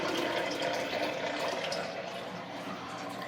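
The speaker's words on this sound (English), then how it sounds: "Now watch the air be sucked up into the bell siphon" Aquaponics bell siphon in a closet grow system draining its bed, a busy gurgling rush of water with air being drawn in, loud and close, fading slightly toward the end.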